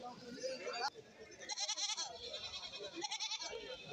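Goats bleat repeatedly amid a busy outdoor crowd at a rainy goat market in Kerala, their wavering cries rising over constant background chatter.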